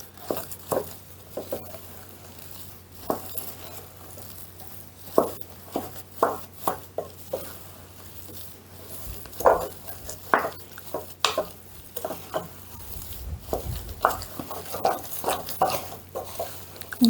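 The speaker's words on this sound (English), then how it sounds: "Just give it a good mix in." Porridge oat bread dough being stirred in a bowl, with irregular soft knocks, scrapes and pats from the spoon against the bowl, fairly close and unhurried, no talking.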